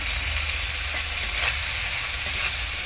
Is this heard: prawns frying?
yes